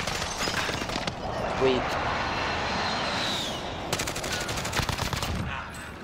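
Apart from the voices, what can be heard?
gunfire in Warzone video game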